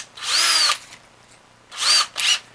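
Two bursts of a power drill with a 7/64 bit whirring at high speed, a long run then a shorter double pulse after a pause, close and loud.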